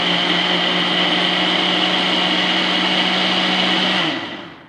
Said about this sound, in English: You just turn your blender on, make it easy.